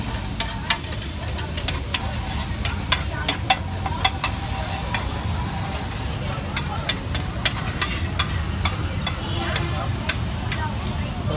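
Meat leg pieces fry on a busy street-food griddle with a constant dense sizzle, punctuated by frequent sharp metal spatula clanks, over a low background rumble of the stall.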